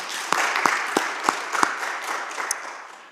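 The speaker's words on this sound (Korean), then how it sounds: "박수 한번 치겠어요." A church congregation clapping together, a brisk burst of many hands with several distinct louder claps standing out, fading gradually toward the end.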